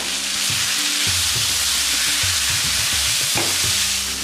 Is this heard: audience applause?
no